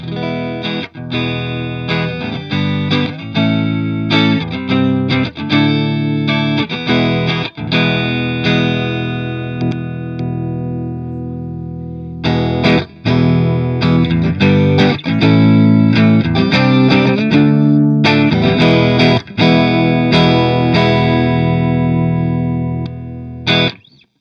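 1997 Fender Stratocaster Deluxe electric guitar on the neck pickup, S1 switch disengaged, rings out distorted, close and loud, strummed chords and riffs with a couple of short breaks, warm and full-bodied, no voices.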